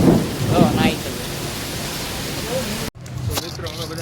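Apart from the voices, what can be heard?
heavy rain and thunder in Surat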